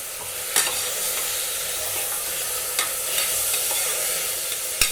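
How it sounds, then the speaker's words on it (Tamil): Chopped tomatoes sauté in a pan for cowpea rice, a continuous close sizzle broken by sharp spoon scrapes and clicks against the pan, with no voices. "தக்காளி நல்லா வதங்கட்டும்."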